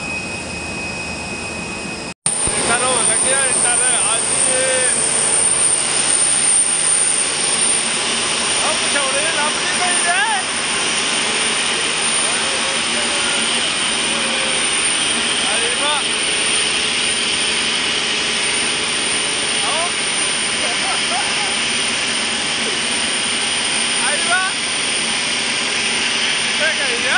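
Steady jet engine roar fills an airliner cabin at night on a Flyadeal flight from Riyadh to Jazan, a loud continuous drone that begins abruptly after a brief cut and holds throughout while people talk faintly in the background.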